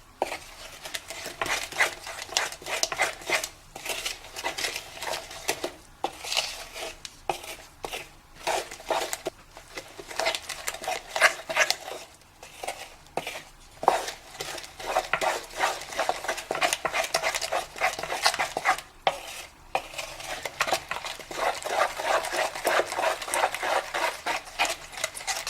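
Nigerian akara bean batter with seasoning is stirred and beaten in a bowl, a steady run of close wet scraping and slapping strokes that continues almost unbroken.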